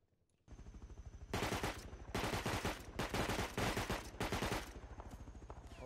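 Rapid automatic gunfire in the video game Rust, several loud sustained bursts separated by short pauses over a steady rhythmic ticking, close and dominant.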